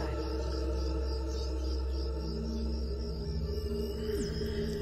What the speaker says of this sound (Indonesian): Hanya terdengar suara-suara jangkrik dan suara khas keheningan malam.